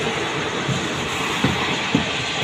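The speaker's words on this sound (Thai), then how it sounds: "รถไฟวิ่งผ่าน" A train rumbles past close by, a steady loud roar with a couple of sharp rail clacks, no voices.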